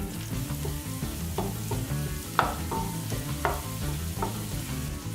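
Sausage fries loudly in a pot for Zuppa Toscana while a spoon breaks it up, a steady sizzle punctuated by scraping knocks of the spoon, close and without talking.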